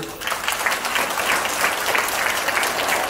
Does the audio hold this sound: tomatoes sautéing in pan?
no